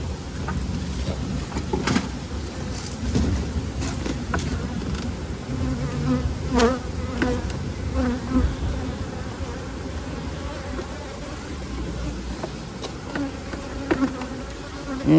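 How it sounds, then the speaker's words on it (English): Honeybees swarm and buzz around a large Demaree-managed hive, a dense continuous hum close by with individual bees zipping past now and then. "That big swarm may well have been from this hive."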